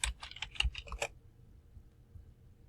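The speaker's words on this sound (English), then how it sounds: "I'm going to start typing the information in" Fingers type on a computer keyboard in a quick close burst of clicking keystrokes for about a second, then stop, leaving a quiet room.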